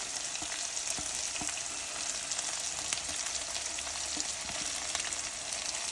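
Onions fry steadily in a pan for capsicum rice, a continuous bright sizzle with occasional soft scrapes and clicks, close and even throughout with no talking.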